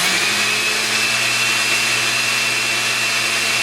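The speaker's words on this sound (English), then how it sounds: "And a real blend this thing." A blender runs continuously, loud and steady, as it purees sea moss punch with a quarter cup of oats, its motor whine and churning wash filling the whole stretch without any talk.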